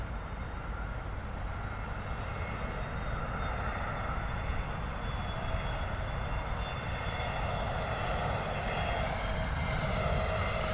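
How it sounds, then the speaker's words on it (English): A British Airways Airbus A321neo jet arriving from Istanbul makes its landing approach at London Heathrow, with a steady, fairly distant engine roar and a whine that holds throughout, with no voices. "British Airways A321neo coming in from Istanbul."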